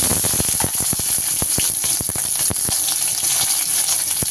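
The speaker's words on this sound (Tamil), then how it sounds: "சின்ன வெங்காயம் சேர்த்து நல்லா வதக்கிக்கலாம்" Small onions sautéing in a pan for black urad dal chutney, a steady close sizzle broken by frequent sharp clicks and scrapes of stirring, with no voices.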